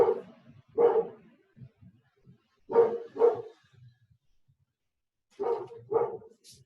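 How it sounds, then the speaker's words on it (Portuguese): A dog barks in three paired bursts spaced a couple of seconds apart, fairly close and distinct, with faint whimpers between them. "Vocês estão ouvindo meu cachorro latir aí?"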